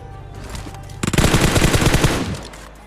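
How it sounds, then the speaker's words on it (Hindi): A UMP submachine gun in PUBG Mobile fires a rapid burst of loud, close shots lasting about one and a half seconds after a brief quieter lead-in. "आप जैसे कि यूएमपी की चलने की आवाज़ सुन ही रहे होगे"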